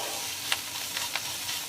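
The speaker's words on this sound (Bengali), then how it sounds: "এখানে আমি 7-8 কোয়া রসুন গ্রেট করেছি। এগুলোকে একটু ভালো মতো 2-3 মিনিট আমি নাড়িয়ে নেব।" Grated garlic is stirred in a frying pan, a steady sizzle marked by three or four quick scraping strokes over a brief moment.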